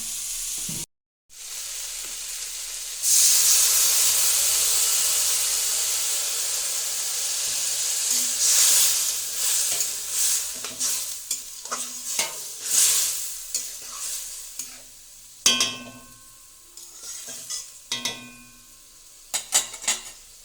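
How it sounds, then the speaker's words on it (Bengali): Chickpea greens frying in a pan hiss loudly as water is poured in, the burst of sizzle fading into bubbling, then scraping stirs and clinks of a utensil against the pan, with no speech. "ছোলার শাক বেশি ভাজবো না, বেশি ভাজলে টক হয়ে যাবে। এবার দিয়ে দেবো জল।"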